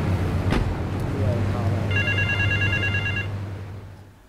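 A telephone rings in the video game GTA III: one burst of rapid, warbling electronic ring pulses over a low, steady engine-like hum that fades toward the end.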